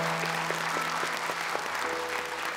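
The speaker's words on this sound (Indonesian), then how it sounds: "Boleh tepuk tangan untuk kedua peserta di awal kita ini" Studio audience applauding two child contestants at the start of a Quran memorisation contest on Indonesian TV, a dense, even roar of clapping over a faint tonal hum that holds steady throughout.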